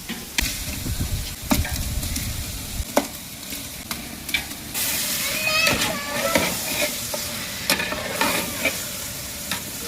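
Three kilograms of mutton sizzles loudly in a large pot with ginger garlic paste for a wedding-style mutton biryani, with continuous frying hiss, stirring scrapes and clanks throughout, and a voice speaking briefly over it.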